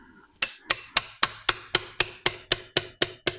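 A hammer strikes a small flat chisel to spread a gearbox casing while rebuilding a wrecked Subaru as a rally car. There are about a dozen sharp, evenly spaced metallic blows, close and loud, with no talking.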